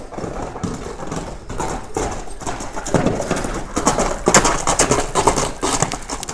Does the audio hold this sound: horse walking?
yes